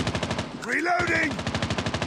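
Rapid automatic gunfire in a Call of Duty mobile game, a fast regular burst of close, loud shots interrupted by a short voiced shout in the middle.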